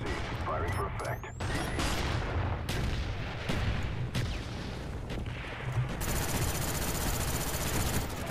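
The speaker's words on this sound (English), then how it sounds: "Mortar coordinates received. Firing for effect." Mortar and artillery strikes in Call of Duty: Black Ops on PC pound continuously through a dense, rumbling barrage, with heavy low-end booms and scattered gunfire layered under the battle noise.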